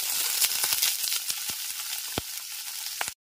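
Capsicum pieces dropped into hot white oil give a bright, loud sizzle with sharp crackling pops that fade slightly toward the end, with no voices.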